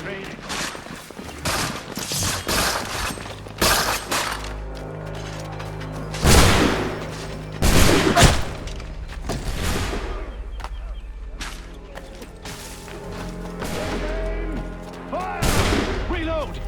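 Musket gunfire in the Assassin's Creed III video game: repeated sharp, cracking volleys and single shots scattered across the scene, loud and near, with shouted voices and battle noise between the bursts.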